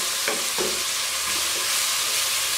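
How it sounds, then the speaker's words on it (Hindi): Tomatoes and onions go into hot oil and fry with a continuous close sizzle, broken by a couple of brief scraping stirs near the start. "ऑयल गर्म होना शुरू हो गया है तो इसमें हम टमाटर डालते हैं और प्याज"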